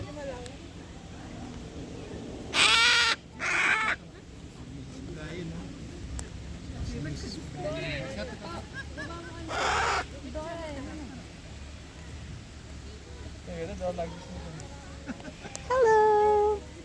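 Cockatoos calling in Katoomba town in the Blue Mountains, New South Wales, with a few loud, harsh screeching bursts spread across the clip over background voices and outdoor ambience.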